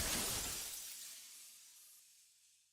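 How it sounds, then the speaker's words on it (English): Glass shattering in the video game Girls Frontline: one loud, bright crash that breaks into a spray of tinkling shards and then fades away over a couple of seconds, with no voices. "It is the sound of glass breach."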